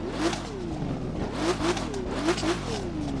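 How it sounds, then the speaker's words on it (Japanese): An Aston Martin Vulcan engine in The Crew 2 video game starts and revs, its rising and falling engine tones repeating in several surges over a steady loud drone, with no talking. "ちなみにザ・クルー2でエンジンスタートするとどんな感じでしょうね。"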